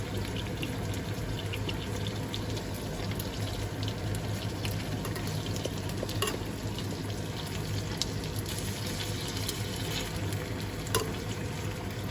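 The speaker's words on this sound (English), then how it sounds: "I will broil the meat, the sides that haven't been broiled, more so with the onion." Beef and onion searing in a pan for a Berber-style beef tajine produce a loud, steady sizzle close up, with occasional stirring clicks and no voices.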